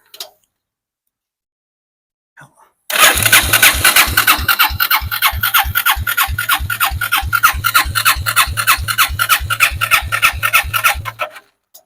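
A small dune buggy engine with a worn carburetor cranks briefly, then catches and runs loud and close with a rapid, steady chugging beat for several seconds before cutting off.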